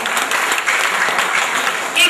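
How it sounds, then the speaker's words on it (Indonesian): A crowd at a local community gathering with religious and community leaders present bursts into brief applause, a dense wash of clapping with voices mixed in. "Tepuk tangan untuk beliau-beliau yang hadir di sini."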